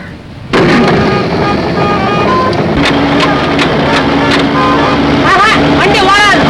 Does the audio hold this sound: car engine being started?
yes